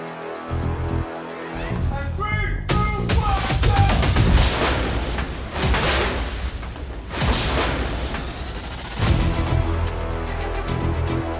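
Pyrotechnic explosions go off on a film set for a science-fiction series, a series of loud booms and crackling bursts with debris rumble, a short quiet lead-in before the first blast and further blasts later.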